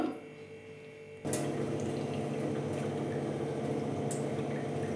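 Water drained off soaked ingredients pours out in a steady, close splashing stream that begins abruptly after a quiet moment and continues evenly.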